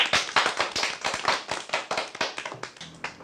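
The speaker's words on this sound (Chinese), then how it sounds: "那我们掌声为他们鼓励一下。" A school class applauding classmates for their Father's Day cards: brisk, uneven clapping from a group of children nearby, rapid claps in bursts that thin out toward the end.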